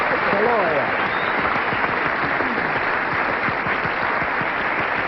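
Studio audience on a 1977 CBS daytime game show, Match Game, claps briskly in a steady, close wash of applause, with a voice briefly audible near the start.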